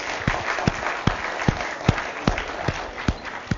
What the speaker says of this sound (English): So we can all clap and wish Sana a happy birthday